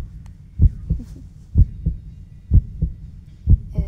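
A heartbeat heard with a head resting on someone's chest, thudding in steady lub-dub pairs roughly once a second, low, close and muffled, with no talking over it.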